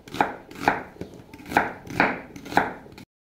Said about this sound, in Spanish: ya voy a picar la cebolla y los jitomates